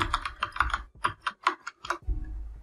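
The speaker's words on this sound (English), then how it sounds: "let's type it in this second parameter, all in capital" Fast typing on a computer keyboard while entering PHP code in Visual Studio Code, a close sequence of crisp key clicks in quick bursts with brief gaps.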